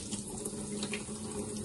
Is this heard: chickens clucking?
no